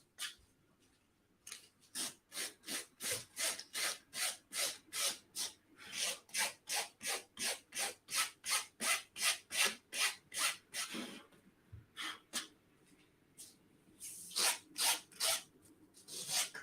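Rhythmic back-and-forth sanding strokes on a Batsuit costume piece, rasping and steady, in two long runs with a brief pause between, close up.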